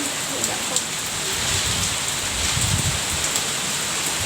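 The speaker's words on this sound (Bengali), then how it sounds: "ভীষণ ঝড় হচ্ছে ভীষণ ঝড় ঝড়টা একভাবে হয়ে যাচ্ছে হাওয়াটা কি পরিমাণ দিচ্ছে বৃষ্টিও হচ্ছে" Heavy rain pours steadily outside during a storm with strong wind, a dense continuous wash with low rumbling gusts swelling midway and no voices.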